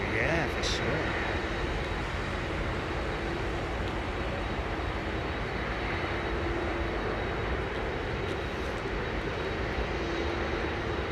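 Several aircraft engines roar steadily at Heathrow Airport, a loud continuous broadband rumble that holds throughout, with people talking over it.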